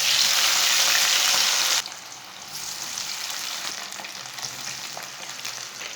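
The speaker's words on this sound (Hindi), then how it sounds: "अब आलूओं को भी फ्राई कर लेंगे।" Potatoes frying in a pan for aloo chicken make a loud, steady sizzle that drops abruptly to a softer, continuous crackle partway through, with no voices.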